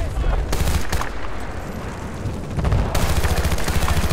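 Rapid bursts of automatic gunfire in the Battlefield Bad Company 2 video game, loud and continuous with dense repeated shots, heavier near the end, and a voice speaking over the battle.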